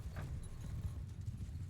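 Horse hooves clip-clopping in a video game: a steady run of close, muffled hoof beats over low battle ambience, with a brief higher whinny-like tone near the start.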